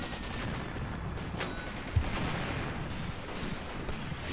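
Distant gunfire and battle noise from the tactics game Graviteam Tactics: Mius Front, Battle of Stepanovka, a steady rumbling fusillade with one sharper shot near the middle.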